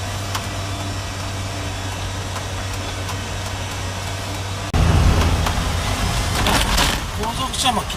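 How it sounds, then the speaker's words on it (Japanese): A 660cc kei truck based camper weighing 1.3 tonnes strains up a mountain road at about 1300 m altitude, its engine droning loudly and continuously in the cabin and swelling louder midway, with someone talking over it. "爆音は立てていますが、なんとか20キロはキープして上がっています"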